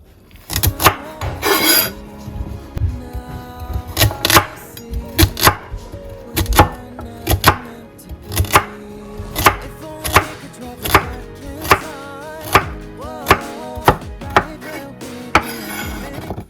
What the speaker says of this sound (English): Now I'm gonna go ahead and dice 3 carrots.